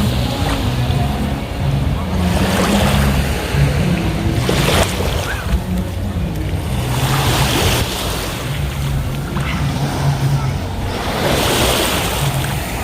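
Sea waves wash in surges beside a seaside restaurant, with wind rumble on the microphone and a steady low rumble underneath while someone talks over it.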